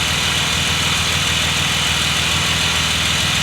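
A BMW E36 M3 engine idles steadily up close, a continuous even rumble with no voices over it.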